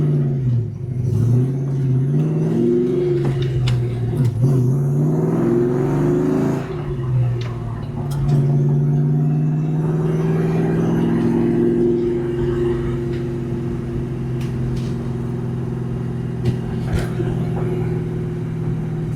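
A 1994-98 Ford Mustang GT pulls hard in third gear on a salted road, its engine droning loud and steady with rising and falling pitch as it accelerates, heard from inside the car with no talk.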